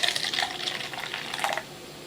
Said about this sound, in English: I'm going to go ahead and pour this into the cup